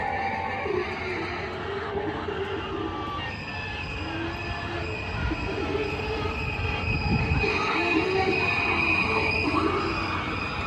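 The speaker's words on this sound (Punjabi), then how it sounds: "ਇਧਰ ਆ ਸਾਹਮਣੇ ਟ੍ਰੇਨ ਆ ਜਿਹੜੀ ਚੱਲ ਰਹੀ ਹੈ" A small amusement ride train at a carnival in Ludhiana rolls along continuously with squealing wheels and a low rumble, steady and moderately loud.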